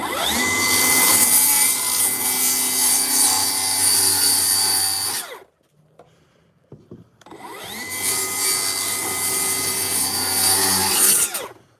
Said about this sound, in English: Cut the board.